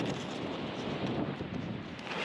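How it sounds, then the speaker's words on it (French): Strong, cold mountain wind buffets the microphone on a frosty winter hike near Lac des Pises in the Cévennes, around 1300 m. It makes a continuous, rough roar that never lets up, with no voices. "Il y a beaucoup de vent, il fait très froid"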